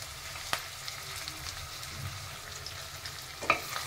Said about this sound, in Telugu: మంచిగా కలుపుకోవాలండి ఇవన్నీ.